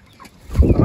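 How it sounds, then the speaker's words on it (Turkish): A chicken gives a short, close cluck-like call in a backyard flock, a single low burst rising at the end of a brief moment. "Bak sert tavuk geldi, bak bak."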